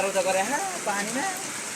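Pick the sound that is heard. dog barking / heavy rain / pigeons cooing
heavy rain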